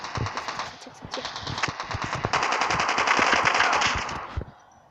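Sustained bursts of automatic machine gun fire in a Call of Duty match, rapid and loud, running almost continuously with brief gaps.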